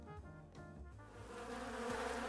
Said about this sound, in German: So, Bienenschwarm Nummer 1.